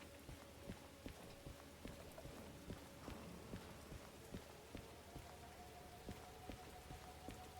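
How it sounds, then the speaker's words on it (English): Rain falling in a train video game, a steady close patter of drops spread across the whole stretch with scattered sharper taps, no talking. "Now it's foggy and rainy."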